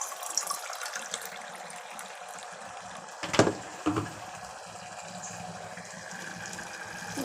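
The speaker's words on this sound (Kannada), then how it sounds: "ಬಿಸಿ ನೀರೇ ಹಾಕ್ಕೋತಾ ಇದ್ದೀನಿ." One glass of hot water is poured into a cooking pot of masala in a home kitchen, a soft, quiet steady trickle with a brief louder splash near the middle.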